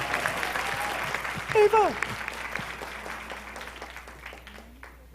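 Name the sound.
audience applause at a summit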